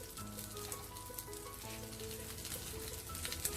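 A pork patty with salted fish pan-frying, a constant soft sizzle and light crackle from the pan, quiet and close with no voices.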